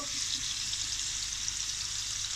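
Beef or goat liver frying in oil with garlic and ginger for a kaleji masala, giving a steady, loud, close hiss and sizzle that holds without a break, with no voices.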